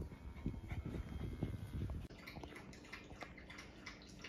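A dog laps thirstily at water during a forest walk, making quick, rhythmic wet slurps for about two seconds. The sound is quiet and close, then fades into a softer murmur of background noise.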